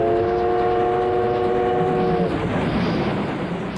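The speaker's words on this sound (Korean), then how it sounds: "더딘 걸음이지만 열차 운행도 조금씩 자리를 잡아가고 있었다." A train runs along the railway in post-liberation Korea, its horn sounding a steady multi-tone blast for a couple of seconds before giving way to the rumbling roll of the cars, loud and close with no voices.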